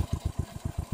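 Motorcycle engine straining under load, a low rapid pulsing thump repeating evenly, close and steady, with no voices.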